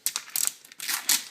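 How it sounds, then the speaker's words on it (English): Transfer tape peels off a vinyl decal on a Can-Am Spyder frunk insert, a close, crackly ripping sound in short uneven pulls with brief pauses and no talking. "peel the transfer tape"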